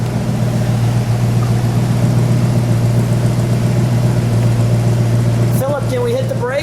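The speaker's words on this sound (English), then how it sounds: "let me listen to it idle at normal idle" 1968 Mercury Cougar XR7 GTE with a 7-litre 428 Cobra Jet V8 at normal idle, a steady deep rumble held close and loud, with someone speaking over it near the end.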